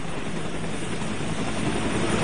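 A helicopter at a landing pad sends out a steady, loud rotor and engine roar that holds unbroken through the whole stretch, with no voices over it.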